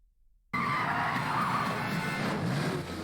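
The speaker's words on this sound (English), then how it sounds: "I love how vehicles wreck like that." A vehicle skids with a loud, sustained tire squeal during a crash scene in a superhero TV drama, kicking in abruptly after a short quiet lead-in and holding steady for several seconds.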